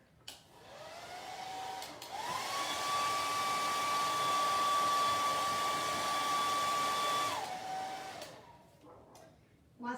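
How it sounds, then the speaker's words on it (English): A blow dryer runs steadily for about eight seconds, drying chalk paste on a handmade fall harvest porch sign, with a loud even whoosh and a thin whine that rises as it spins up and falls as it winds down. "So blow dryer."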